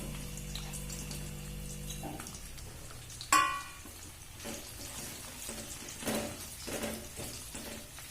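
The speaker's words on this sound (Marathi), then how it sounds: "आता मी ही भेंडी फ्राय करून घेणार आहे तेलात।" Okra coated with besan (gram flour) fries in oil in a kadai with a steady, fairly loud broadband sizzle. A low, even hum comes first, and a brief sharp clatter marks the start of the frying.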